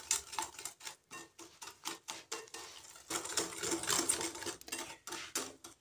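Sugar and half a cup of vegetable oil being mixed in a bowl for a vanilla pastry cake, with rapid rhythmic clinking and scraping strokes in quick bursts, close and moderately loud, no talking.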